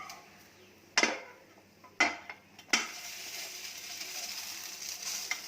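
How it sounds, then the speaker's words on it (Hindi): A metal pan tilted and handled on the stove while a sooji breakfast pancake is flipped gives three sharp clanks about a second apart, then a steady, moderate sizzle as the pancake settles back in the oil. "पैन को हल्का सा टेढ़ा करके इसको पलटी कर लेंगे।"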